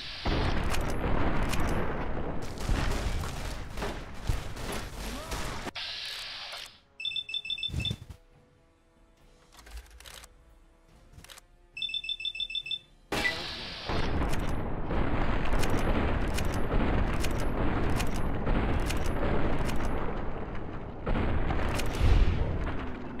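Gunfire from the Fallout: New Vegas video game, with loud dense bursts of shots at the start and end and a quieter stretch between, where short beeping electronic tones sound.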